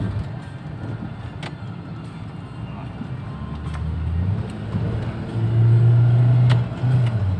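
Engine of a 2007 Suzuki Grand Vitara automatic accelerating from third gear, a low droning hum that builds in pitch and loudness toward the end, heard from inside the car.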